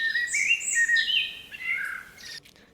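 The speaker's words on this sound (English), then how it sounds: "And you can hear the birds and stuff in the background." Several bright, high bird chirps and trills overlap in quick succession, clear and fairly close over a quiet background, in a forest soundscape on a music album.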